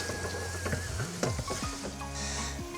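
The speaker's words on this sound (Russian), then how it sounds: "Лук у нас потихонечку жарится, пускай." Sliced onions frying gently in a pan on a stovetop, a soft, steady sizzle heard up close, broken now and then by faint clinks and scraping from a utensil.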